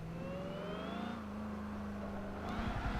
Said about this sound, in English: just throwing the car into a nice slide and just holding on that slip